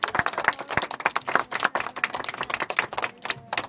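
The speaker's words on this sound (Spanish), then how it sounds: "un aplauso para los chicos" Close, lively clapping for a group of kindergarten children, a handful of people applauding with irregular sharp claps.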